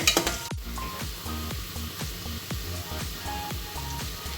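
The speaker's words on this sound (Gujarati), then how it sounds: "હવે આપણે છે ને ડુંગળીને સાતળી લેવી." Chopped onions sauté in a pan over a constant sizzle, while a utensil scrapes and stirs in regular strokes about every half second, close and clear with no talking.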